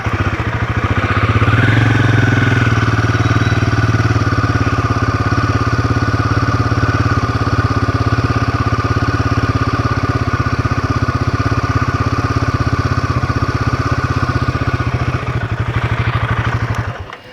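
A Royal Enfield Himalayan 450 motorcycle engine running close up while the bike is ridden in tight circles, a loud steady mid-pitched thrum with even pulsing that holds throughout and drops away at the very end.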